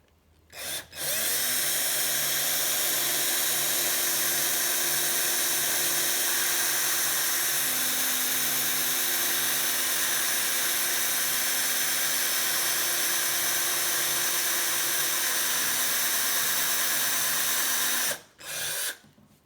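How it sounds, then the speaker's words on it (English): A power drill bores through a vintage quick release skewer, whining steadily and loudly for about seventeen seconds before stopping abruptly. "We are drilling through"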